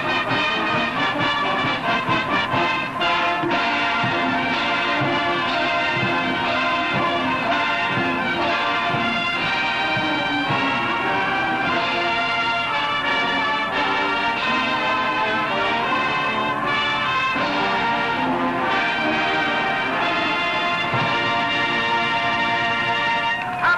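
An all-brass college band imitates bells while playing Jingle Bells at the Rose Bowl halftime, a continuous loud full-ensemble brass sound with sustained chords and bright ringing accents throughout.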